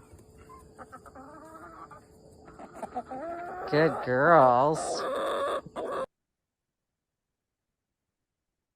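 Hens cluck and chatter up close, rising to a louder burst of squawking calls midway, while a person speaks softly to them.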